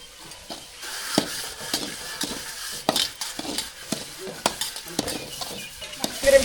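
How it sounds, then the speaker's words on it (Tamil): Semolina roasting in ghee in a pan, stirred with repeated sharp scrapes and clinks of a utensil against the metal over a soft sizzle, close and fairly loud. "இப்போ அதிலே வந்து ரவையை வறுக்க போகிறோம்"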